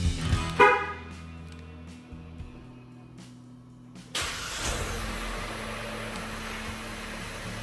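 A BAIC X55 Plus Premium compact SUV engine being started: a short cranking whirr, then a pause, and then the engine catching into a steady idle hum with a faint high whine close by.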